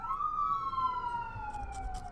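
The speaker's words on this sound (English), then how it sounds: "That sounds like an ambulance." An ambulance siren passing along a main road: a single wailing tone that slides slowly downward, heard from some distance over faint traffic rumble.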